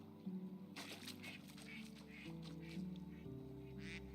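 A duck in the Medieval Dynasty video game quacking repeatedly in short nasal bursts over a steady layer of game ambience and background music.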